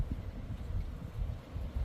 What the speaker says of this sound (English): it's another windy day in Idaho